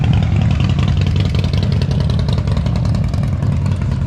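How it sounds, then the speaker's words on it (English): Three motorbikes pulling up outside the Daly Waters Pub in outback Australia, with loud, steady engine rumble and revving filling the whole stretch, close by. "Just got 3 motorbikes pull up."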